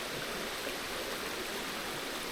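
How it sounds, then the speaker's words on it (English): A small waterfall on a foggy forest hiking trail at Monte Sano produces a faint, steady hiss of falling water, with no voices. "There's a waterfall over here."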